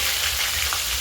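Katla fish frying in mustard oil gives a loud, continuous dense sizzle close by, steady throughout, with no voices.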